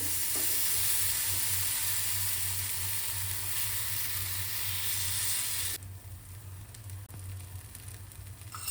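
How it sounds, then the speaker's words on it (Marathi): Moong batter sizzles as it is spread thinly on an oiled griddle, a loud steady hiss that drops abruptly to a softer crackle partway through. "आता आपण जे बॅटर तयार केलं होतं ते थोडं थोडं टाकायचं आहे आपण, आणि हलक्या हलक्या हाताने त्याला स्प्रेड करायचं आहे"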